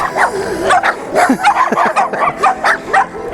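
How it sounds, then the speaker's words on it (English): Several dogs barking and yipping in quick, uneven bursts throughout, fairly close and loud, with a few higher whimpering yelps mixed in. "Look at all the dogs."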